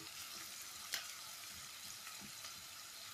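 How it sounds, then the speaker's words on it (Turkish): Two chopped medium onions fry in plenty of oil for a Tokat-style sautéed spinach dish, giving a soft, continuous crackling sizzle with one brief sharper pop and no talking. "Bol yağda kavuruyorum."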